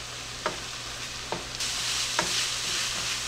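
Seasoned ground beef for enchiladas frying in a pan, a steady close hiss of sizzling broken by three soft scraping stirs of a utensil through the meat.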